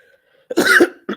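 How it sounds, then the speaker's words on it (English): A person coughs, a short burst of two or three close, harsh coughs after a brief silence. "I'm gonna be coughing up a storm."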